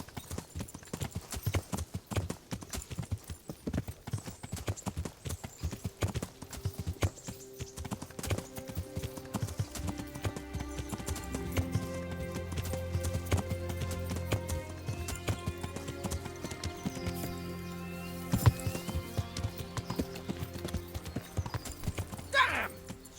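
Horse hooves clip-clop in a galloping rhythm in the medieval video game Kingdom Come: Deliverance, mixed with neighs, music swelling midway and a voice briefly talking.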